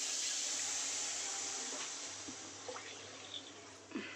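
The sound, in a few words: water poured into pan of frying spicy katla fish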